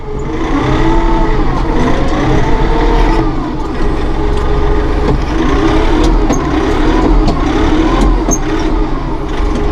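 A 2016 Massey Ferguson 1736 Premium Cab compact tractor's engine running close and loud, its pitch rising and falling as the auto throttle adjusts revs, with a steady low rumble underneath.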